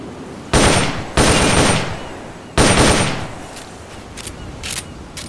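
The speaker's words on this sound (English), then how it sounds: "The M16 is a standard assault rifle" Rapid M16 assault rifle fire in Metal Gear Solid Peace Walker, played on the PPSSPP emulator: three loud, close bursts of automatic gunfire, then quieter scattered shots fading into the background.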